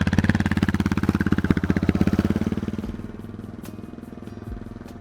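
A motorcycle engine runs close by with a rapid, even, throbbing idle that fades and thins out toward the end, with no one talking.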